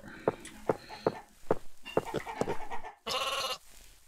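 Sheep in a Minecraft-like block game (MineClone2 server) give a short run of bleats and game sound effects, followed by a louder broadband burst near the end; the bleats are moderately loud and no one talks.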